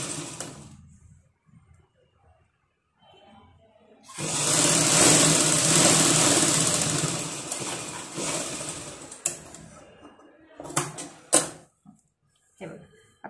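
A sewing machine stitches a fabric strip in one sustained, loud, whirring run lasting several seconds, close by, followed by brief clicks and handling noises.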